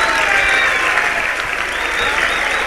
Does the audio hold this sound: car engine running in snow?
no